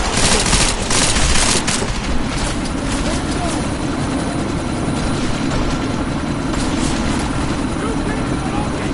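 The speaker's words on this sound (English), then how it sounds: "That chopper's about to take off!" A helicopter in Deus Ex Mankind Divided roars continuously with a loud, dense rotor and engine drone, heavy and close throughout, with a voice shouting over it.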